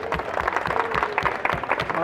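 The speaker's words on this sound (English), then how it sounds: "let's give Janome a round of applause" Short burst of applause from an audience at a sewing machine prize drawing in Des Moines, Iowa, with distinct rhythmic hand claps close by and a dense clatter behind them.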